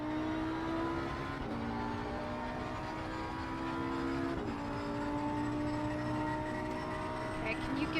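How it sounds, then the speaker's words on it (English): Engine drone from a racing video game at Monza as a faster race car closes in from behind, a steady layered whine that shifts pitch slightly, continuous and fairly loud throughout. "Faster car approaching."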